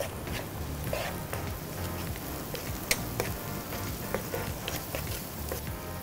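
Spices crackle and sizzle steadily in hot oil while being tempered for a Sri Lankan tomato curry, with occasional stirring clinks over a continuous frying hiss and no talking.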